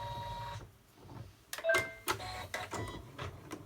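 Embroidery machine stitching a gingerbread boy tree hanger, quiet at first, then a series of short whirring, clattering needle bursts in quick succession, close and moderately loud.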